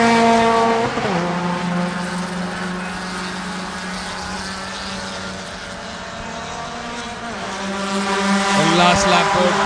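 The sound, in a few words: racing cars on the final lap of a 10-lap championship race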